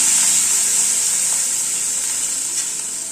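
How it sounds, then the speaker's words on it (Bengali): Five or six crushed garlic cloves frying in a little hot oil for fish curry, a loud steady sizzle with bright hiss, close and continuous throughout, with no talking. "রসুনটা একটুখানি তেলে ভেজে নেব।"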